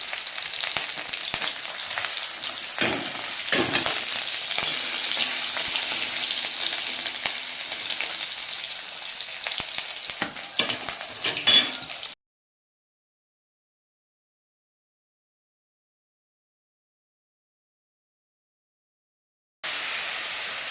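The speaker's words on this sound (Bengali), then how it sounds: "কড়াটা আবারও চাপিয়ে দিয়েছি কড়াই দিয়ে দেবো পাঁচ ফোড়ন আর কাঁচা লঙ্কা" Panch phoron and green chillies fry in a hot wok with a loud, steady sizzle and some stirring for about twelve seconds, then the sound cuts to silence before the sizzle briefly returns at the end.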